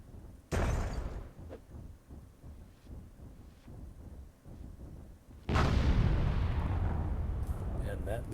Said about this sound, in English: And that leads to a giant explosion.